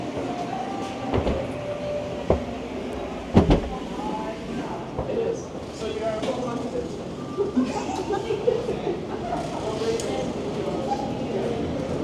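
Busy underground subway station ambience in Toronto near Yonge and Queen: a steady rumble of rail traffic and crowd murmur, with occasional clanks and mechanical thumps echoing through the space.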